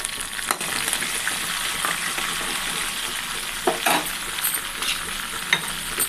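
Cumin, coriander and fenugreek seeds sizzle in hot tempering oil for a village-style gongura chutney, a bright continuous crackle with occasional clinks and stirring scrapes close by.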